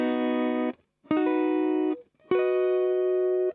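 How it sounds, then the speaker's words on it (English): Guitar strumming three basic major triad chords, each ringing out for about a second with a short silence between them, close, clean and sustained. "Your basic major triad contains a root, a third, and a fifth. They sound like this."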